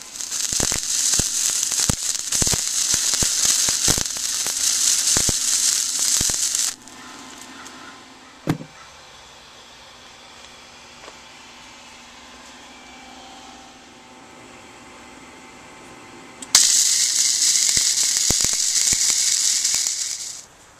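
Welding on a steel frame for a homemade canoe or kayak trailer: a loud, steady crackling hiss for several seconds, a quieter pause with a single clank, then the crackling welding starts up again near the end.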